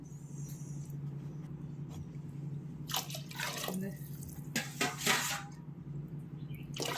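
Water is poured into a pot of coconut rice made with old masoori rice, giving faint splashing and trickling bursts over a low steady kitchen hum, with a couple of light clinks.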